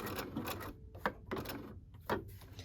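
A sewing machine stitches a seam on a wrap dress in short, quiet bursts of rapid mechanical whirring and ticking, with small pauses and clicks between runs.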